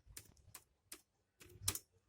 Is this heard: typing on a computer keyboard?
yes